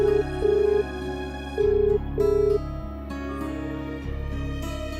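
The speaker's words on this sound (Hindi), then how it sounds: "मैं शनाया को फोन लगाता हूं।" A phone ringback tone repeats in steady on-off pulses, an electronic buzzing tone with short gaps, heard clearly with no talking.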